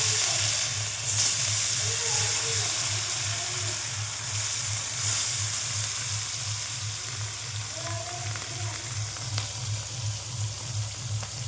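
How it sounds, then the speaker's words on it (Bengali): Fish coated with salt and turmeric goes into hot oil in a kadai wok. A steady hissing sizzle continues throughout, with a low pulsing hum underneath. "কড়াই তেল দিলাম, এই যে তেলেতে মাছ ছাড়লাম"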